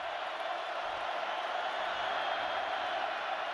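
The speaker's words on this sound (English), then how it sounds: "OU defensive players asking the crowd to make some noise." A college football stadium crowd at a Kansas versus Oklahoma game keeps up a steady, broad roar of noise, loud and unbroken throughout, with a faint voice underneath.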